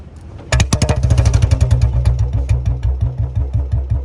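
A Royal Enfield Bullet motorcycle with a black CDI fitted fires up close by and settles into a loud, even thumping idle, each beat distinct and heavy.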